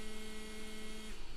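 A 3D printer gives off a steady vibrating electrical hum, fairly quiet and unbroken, with a faint shift near the end and no voices.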